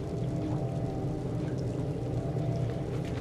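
Water pouring steadily in the dark, damp world of Little Nightmares, a continuous broad splashing rush with no pauses, heard alone and fairly close.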